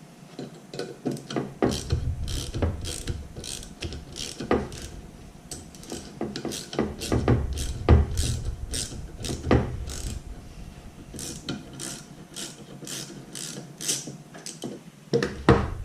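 A hose clamp on a propane forge hose is tightened, producing repeated close ratcheting clicks and scraping turns in an uneven rhythm, fairly quiet, with no talk.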